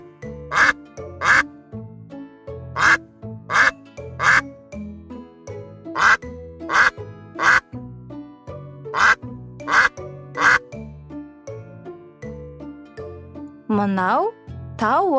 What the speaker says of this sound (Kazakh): Бұл үйрек.